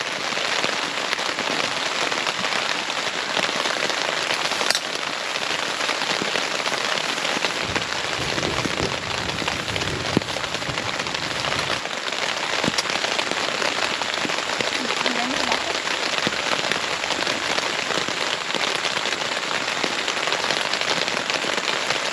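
Steady rain pours down throughout at a lakeside campsite, a dense hiss of drops hitting a surface, with faint muffled voices now and then.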